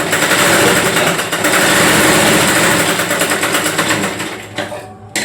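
A sewing machine stitches fabric in one continuous, fast, whirring run close by, slowing and stopping near the end.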